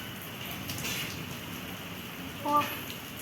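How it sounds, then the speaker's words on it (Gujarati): Rain falls steadily in a village setting as a soft, even hiss throughout, with a brief louder patch near the end and faint voices in the background. "વરસાદ આવ્યો"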